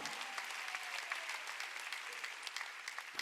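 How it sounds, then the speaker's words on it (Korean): Congregation applause during a Wednesday service at Jesus-centered church, a full, steady burst of many hands clapping for about three seconds, moderately near, ending abruptly. "박수."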